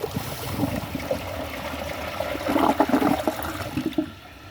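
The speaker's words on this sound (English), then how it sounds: "Let's give it a flush." A 1999 Crane Atlas open-rim toilet flushes with a steady rushing swirl of water that swells and churns for several seconds before tapering off, close and fairly loud with no talking.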